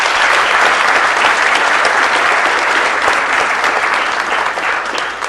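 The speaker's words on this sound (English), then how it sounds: "Let's give the mom a big round of applause." A room of people at a city council meeting applauds together, a dense, loud burst of clapping that holds steady for several seconds before beginning to thin out.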